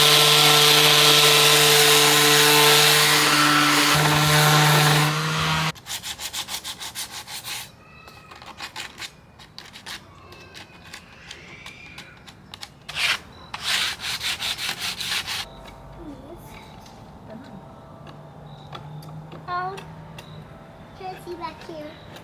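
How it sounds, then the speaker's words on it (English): Hand sanding rubs back and forth on a wooden mantel in quick rhythmic strokes, loud and close, after a steady machine hum cuts out; a voice is heard. "just gonna do a light sanding on this mantle"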